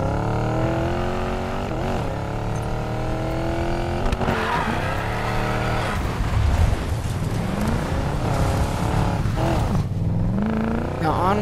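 A Chevy Bel Air's engine in the Need For Speed Payback racing game rumbles and revs continuously, pitch rising and falling with acceleration and occasional tire squeal, while a voice talks over it.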